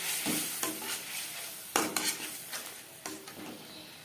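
Tilapia fish curry sizzles in a pan after a splash of water, a moderate hissing bed broken by clattering spoon scrapes and knocks against the pan, with one sharp burst near the middle and no voices.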